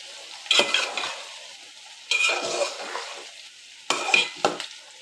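Eggplant and potato being sautéed for a hilsa fish curry: three separate bursts of scraping stirring in a pan, each followed by a brief sizzle that fades, with quiet gaps between.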